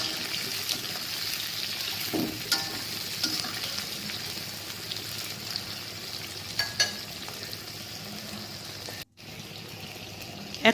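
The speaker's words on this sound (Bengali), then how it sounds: "মাছগুলো ভাজা হয়ে গেলে সেই একই তেলে পেঁয়াজের কলিগুলো দিয়ে দিলাম।" Onion flower stalks frying in the same oil left from frying fish, a continuous soft sizzle with faint stirring clinks and scrapes, briefly cut out near the end before resuming.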